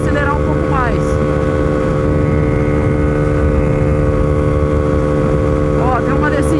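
A Honda Pop 120 motorcycle engine drones steadily with strong harmonic tones, holding a loud even pitch and rising slightly near the end, with brief talk over it.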